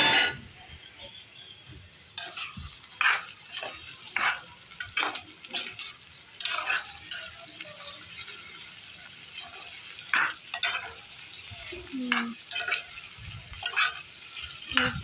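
Potatoes frying in oil in a pan, with steady sizzling and repeated clinks and scrapes as they are stirred, fairly close and loud, no talking.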